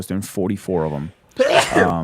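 Someone speaks briefly about baseball pitching, then there is a short pause and a single loud, breathy sneeze close to the microphone.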